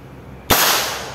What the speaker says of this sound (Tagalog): Try natin yung putok niya.